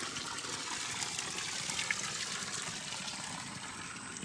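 A steady, close splash of water pouring from a spout in a rice paddy, forming a constant hissing trickle with no voices.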